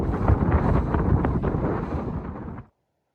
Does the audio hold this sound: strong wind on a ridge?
yes